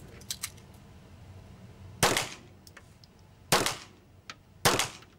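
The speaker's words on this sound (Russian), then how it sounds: "По звуковому сигналу сотрудник должен зарядить магазин и в течение 30 секунд поразить цель." Three sharp gunshots from a police service handgun at a shooting range during a timed qualification, each a loud crack with a brief decaying tail, spaced over a few seconds, with fainter distant shots from other shooters in between.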